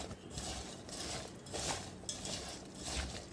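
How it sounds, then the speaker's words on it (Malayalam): Cut lemons with salt stirred for pickle, faint clinking and scraping of a spoon against the container in slow repeated strokes, quiet and close with no voices. "ഇപ്പം നമുക്കിത് നല്ലവണ്ണം ഇളക്കി"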